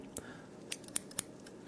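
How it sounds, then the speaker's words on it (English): Scissors snip close to the microphone in a quiet ASMR setting, four sharp crisp cuts spaced about a quarter second apart, soft and isolated with no voice over them. "We'll do some scissors while I talk through this."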